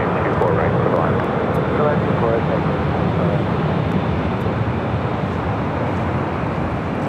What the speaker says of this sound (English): Southwest flight heading to Denver,